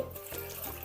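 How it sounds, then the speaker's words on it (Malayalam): Water poured from a cup into a ripe mango curry (Kerala mambazha pulissery) in a pot, a short close splashing pour lasting under a second, with no voices. "വെള്ളം ഒഴിച്ചു കൊടുക്കാം"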